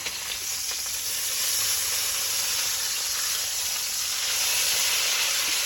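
Steak sizzles steadily in a hot pan at home as it is flipped, a constant bright hiss that swells slightly partway through, with no voices.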